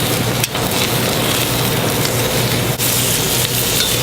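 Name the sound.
food searing in a pan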